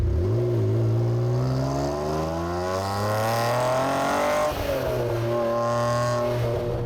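A Noble M400 sports car drives under load, its engine loud and close, revving steadily upward through gears with smooth rising pitch sweeps and a brief dip before climbing again.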